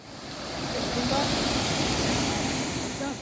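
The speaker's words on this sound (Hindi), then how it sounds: "पत्थरों और रास्तों के नीचे से गुजरता हुआ पानी खाई में जा रहा है" Water rushing steadily beneath stones and a trail, pouring down into a gorge near Bhimbali on the Kedarnath trek route; a continuous, loud broadband roar with no voices.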